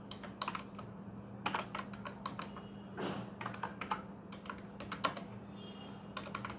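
Typing on a computer keyboard, with quick bursts of close, crisp key clicks separated by short pauses, steady and quiet with a faint hum behind it.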